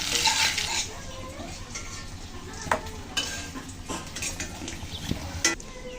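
Fried potatoes lifted from a pan of hot oil, with a steady sizzle under scraping and metal clinks of a spatula against the pan, plus a few sharper knocks near the end.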